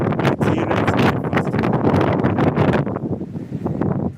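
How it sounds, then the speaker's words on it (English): Strong gusting wind buffets the microphone outdoors on a walk through Valletta, Malta, a loud rumbling roar that surges and eases in uneven bursts, dropping slightly toward the end. "Very, very windy."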